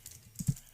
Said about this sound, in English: Let me type in capital words as well.